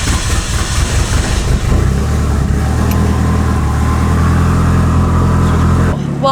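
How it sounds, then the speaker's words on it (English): A 700-horsepower Mitsubishi EVO 8 warms up with a loud, steady low rumble that holds throughout. The engine note drops to a smoother drone partway in, and the sound cuts to a different tone just before the end. "While we're waiting for the car to warm up"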